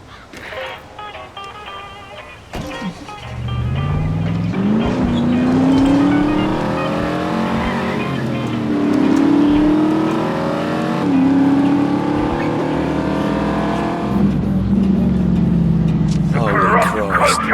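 A car engine drives steadily in The Saboteur, a video game, its note rising and falling through gear changes for most of the stretch. It plays loud and close, with voices and other game sounds mixed in.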